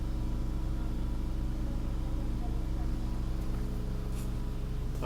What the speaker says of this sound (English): It's just our usual rough running bad head gasket